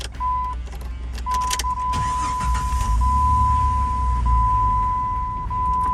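A Jeep WJ Grand Cherokee being cranked with a newly cut key lacking its chip, with a key clicking in the ignition, a steady electronic chime tone and the engine briefly catching and running, loud and close.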